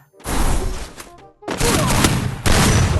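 Rapid bursts of gunfire from a Free Fire shooter match, loud and dense, coming in two sustained volleys separated by a brief lull, with no talking over them.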